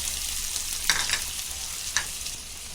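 Chopped onions sizzle steadily in hot oil in a pan while cooking chicken saroley, a Konkani dish, with a couple of soft scraping stirs punctuating the constant frying hiss.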